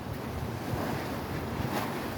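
Small waves lap at the end of Khlong Wan pier in Thailand. Steady, broadband wash and wind rumble carry on without a break and fill the whole moment.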